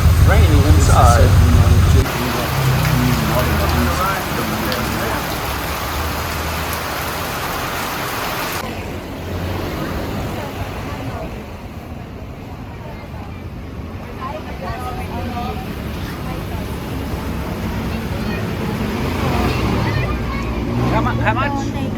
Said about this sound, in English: It's raining inside the Jeepney.